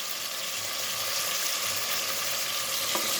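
Chicken fries in a pan with a constant, close, even sizzle that holds steady throughout, with no other sound on top.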